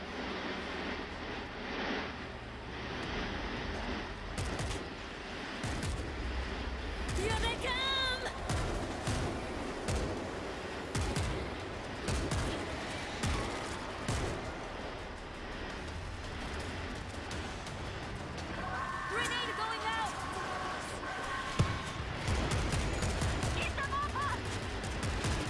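Heavy gunfire rattles through a World War Z video game in bursts of rapid shots layered over dense combat noise, with a player talking throughout.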